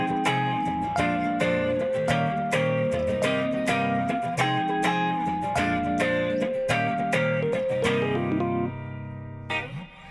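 Instrumental jazz played on rock instruments, with distorted guitar chords and bass moving through changing harmonies in a steady, punchy rhythm, loud and continuous before a brief tail-off.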